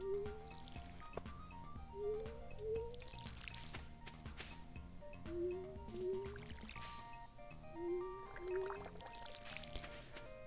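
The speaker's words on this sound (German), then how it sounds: "Wir sind hier jetzt erstmal am Gießen." Watering crops in the Stardew Valley farming game: short rising splash-and-pour effects repeat in pairs over steady background game music.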